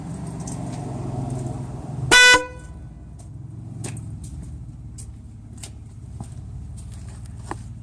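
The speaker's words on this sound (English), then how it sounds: "This universal is a lot louder. Seems to be a lot louder than factory horns" A single short, loud blast of a universal aftermarket car horn on a 2002 Chevy Venture cuts through quiet background rumble, followed by faint scattered knocks.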